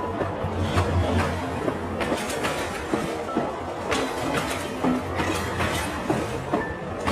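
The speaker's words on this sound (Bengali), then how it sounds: "ট্রেনটা ছেড়ে দিচ্ছে তো" A cartoon train pulls out of a rural Bengal station at midnight with a steady clickety-clack of wheels over the rails. The rhythmic rolling rumble stays loud and continuous throughout, with no voices.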